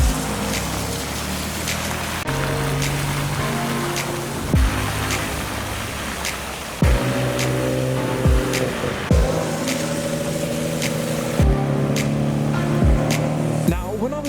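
A white BMW E30 drives out of a wet car show in the rain, its engine rumbling and tyres hissing on the soaked road while other cars pass nearby, with wind noise and occasional talk in the background.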